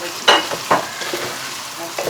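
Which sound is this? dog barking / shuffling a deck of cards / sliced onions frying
sliced onions frying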